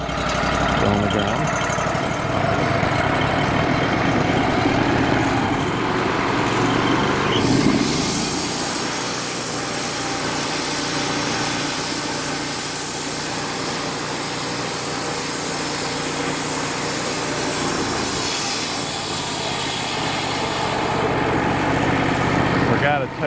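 A WoodMizer LT35HD sawmill's engine idles steadily while warming up, a continuous loud mechanical hum with a rise in pitch partway through. A person talks briefly over it.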